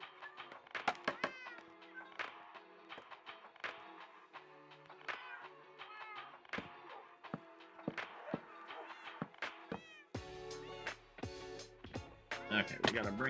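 A house cat meows several times among taps, thumps and soft footsteps indoors, with a voice talking over it during a Minecraft stream.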